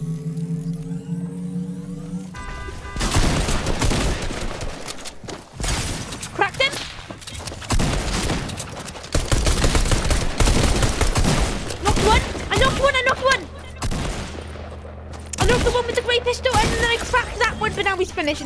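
Repeated loud sniper shots and gunfire bursts ring out in a shooting video game, dense and close, with a player talking over the action.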